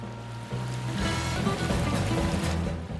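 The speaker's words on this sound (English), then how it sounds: "Greninja creates throwing stars out of compressed water and unleashes them at high speed. This attack is called Water Shuriken." Greninja's Water Shuriken attack in Super Smash Bros Ultimate: a steady whooshing, splashing water rush builds after a short buzzing charge tone, loud and continuous for a few seconds with game tones layered over it.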